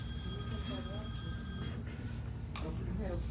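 A telephone rings in a room during a spoken talk, its electronic ringing tones running steadily beneath a voice as he speaks.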